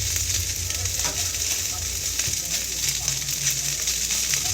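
Fried rice with eggs and hot dogs sizzles steadily in a pan, a continuous bright hiss with faint low murmuring beneath it throughout.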